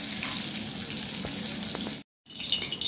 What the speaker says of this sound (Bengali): বেগুনটা একটু নুন আর হলুদ দিয়ে ভেজে নিচ্ছি ভালো করে